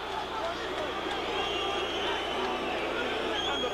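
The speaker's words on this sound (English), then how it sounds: "And the crowd has the audacity to boo." Ringside boxing crowd at a middleweight bout, a steady dense roar of disapproving voices and booing filling the arena, continuous and moderately loud throughout.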